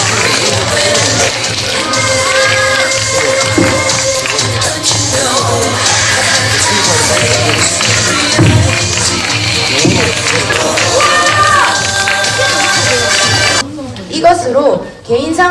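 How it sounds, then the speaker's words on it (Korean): Audience applause at a children's theatre award ceremony in Gyeongsangnam-do, a dense sustained clapping from a crowd filling the hall, loud and continuous, tailing off at the very end. "박수 한번 주시죠."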